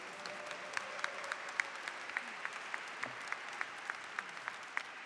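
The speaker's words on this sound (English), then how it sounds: "a round of applause, please." Faint, thin applause from a small gathering at a Hall of Fame evening, scattered distinct claps ticking out steadily over a soft hiss, fairly distant and quiet throughout.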